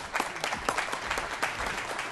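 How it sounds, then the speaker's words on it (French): Audience applause at a mountain-safety conference round table, a steady dense patter of many hands clapping throughout the short stretch, fairly even in level with no voices on top. "t'as de la chance, tu te fais applaudir déjà, t'as rien dit"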